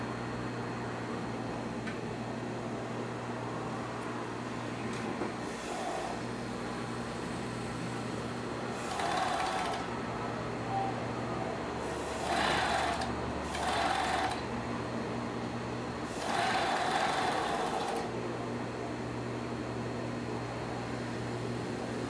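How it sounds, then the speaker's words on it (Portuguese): A sewing machine stitching around a felt circle on a carnival costume hat, running in several short bursts of rapid whirring over a steady hum, close and clear, with no voices. "Você vai botar a roda de feltro aqui, ó, e vai costurar o redor aqui todo"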